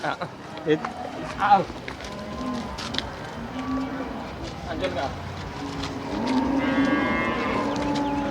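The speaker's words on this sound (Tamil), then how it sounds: "என்ன இது பால் மாடு" Dairy cows mooing repeatedly at a busy cattle market in Melapalayam, with several low calls near and far among crowd chatter and people talking throughout.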